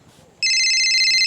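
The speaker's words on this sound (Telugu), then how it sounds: "నీకన్నా ఫోన్ చేస్తుంది" A phone ringtone for an incoming call in a Telugu village sets in abruptly after a short near-silent lead-in, then plays as a loud, steady electronic tone that continues to the end.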